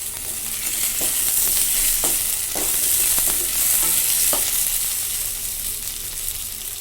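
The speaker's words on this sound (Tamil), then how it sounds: "இதுவும் நல்லா ஃப்ரை ஆகி வரட்டும்" Sliced tomatoes and onions fry in a pan for a village-style chicken curry, giving a steady bright sizzle with scattered stirring clicks and scrapes throughout, close and alone with no talking.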